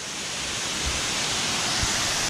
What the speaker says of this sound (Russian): я первый раз вижу водопад своими глазами